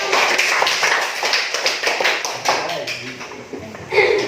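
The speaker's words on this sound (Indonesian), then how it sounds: "Tepuk tangan untuk" A classroom group claps after a group presentation in uneven bursts of quick hand slaps that start dense and thin out, with some voices mixed in underneath.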